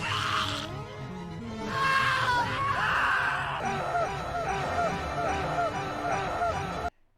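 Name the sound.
scream sound effect in a video game review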